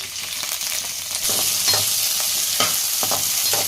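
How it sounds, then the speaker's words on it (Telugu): Onions, curry leaves and garlic cloves frying in hot oil toward golden brown give a steady, close sizzle with intermittent scraping stirs throughout. "కొంచెం ఎర్రగడ్డలు, కరివేపాకు, వెల్లుల్లి రెబ్బలు వేసి వేయించుకొని గోల్డెన్ బ్రౌన్ వచ్చే వరకు వేయించుకుందాం."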